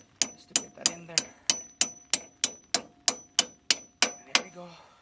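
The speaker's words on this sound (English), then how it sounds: "Just to hammer a little bit here, just to get that in there." Hammer blows knocking a strut into place on a Chevrolet TrailBlazer during a strut and coil spring replacement, about a dozen sharp metallic strikes in a steady, evenly spaced rhythm, close and clear with no talking.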